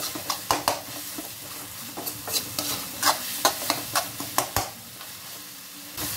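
A spoon stirs chili powder with green chilies in a hot pan over a gas flame for a chutney to go with idli and dosa. Repeated scraping strokes sound in an irregular rhythm over a soft, continuous sizzle, close and clear with no talk.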